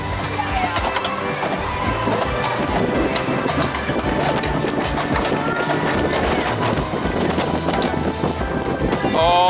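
Heavy wind buffeting the microphone high up on a ride at the Duinrell amusement park, a steady, loud roar with gusty rumbling, continuous throughout.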